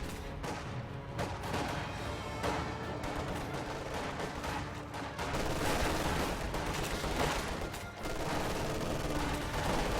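Gunfire in a Company of Heroes-style video game battle: dense, continuous rattling volleys and machine-gun bursts with booming impacts, loud and sustained throughout.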